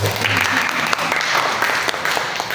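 A church congregation of several hundred applauds during an evening worship service, steady thick clapping filling the room, with a voice speaking faintly over it.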